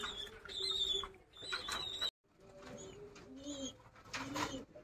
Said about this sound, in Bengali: এই কেজের মধ্যে সব সিঙ্গেল মাদি পায়রা আছে।